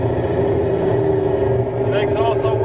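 A big rig truck's engine brake runs with a steady, loud, rumbling engine drone that holds throughout, heard from close by.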